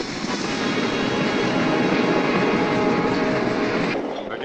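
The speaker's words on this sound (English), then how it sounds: "We gotta let the train get on the bridge." Train rolling past in a 1978 war film scene near a bridge, a steady loud rumble and rattle of railcars sustained throughout before tapering off at the end.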